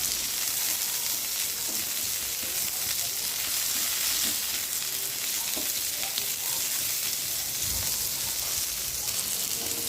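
Pointed gourd (potol) frying in a pan, a steady close sizzle with crackling pops running throughout, occasional faint stirring clinks, no talk.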